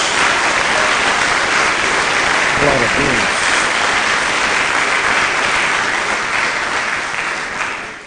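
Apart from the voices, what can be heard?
applause for Jesus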